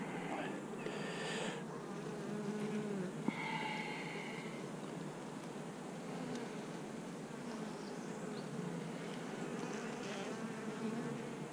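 Honey bees buzz steadily and quietly around a two-frame mating nuc hive. Individual bees drone past now and then against the soft, continuous hum.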